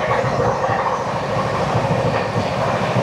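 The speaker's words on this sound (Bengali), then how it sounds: "সাসারাম জংশন থেকে ভাবুয়া রোড পর্যন্ত আমাদের এই ট্রেন চলবে 47 কিলোমিটার।" The Poorva Express passenger train runs on rails between Sasaram Junction and Bhabua Road, a loud steady rumble and rattle with faint clickety-clack, heard from inside the moving train.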